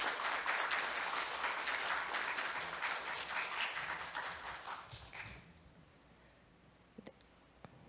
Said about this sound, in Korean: 아낌없는 박수로 이한나 연구원님을 맞이해 주시기 바랍니다